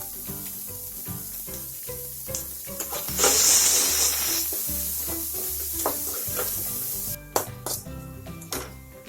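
Onions and green chilies with a pinch of salt sautéing in a pan give a steady close sizzle with stirring scrapes, a louder hissing surge partway through, then a few clanks of the utensil near the end.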